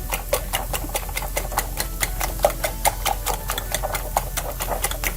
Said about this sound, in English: I added some salt and pepper to the eggs and I'm giving them a nice whisk